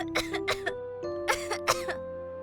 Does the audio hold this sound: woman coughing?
yes